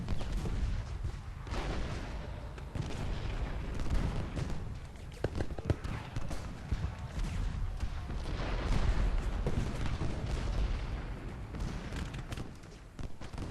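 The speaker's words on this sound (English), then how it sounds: "Damn, that's a lot of artillery." Artillery rumbles in Ultimate General: Gettysburg with repeated cannon booms and dense battle noise throughout, heavy and continuous.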